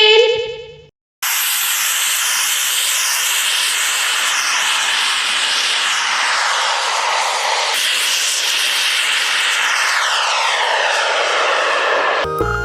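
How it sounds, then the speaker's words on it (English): A fixed-wing aeroplane flies past in a loud, steady engine roar that holds for several seconds and shifts slightly in pitch as it passes, preceded by a brief voice. "A for aeroplane."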